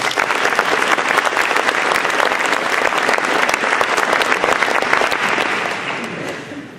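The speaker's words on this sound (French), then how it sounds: "on l'applaudit" A town hall audience claps together at a mayor's New Year event, dense and sustained applause from a full room that holds steady and then fades toward the end, with no voices over it.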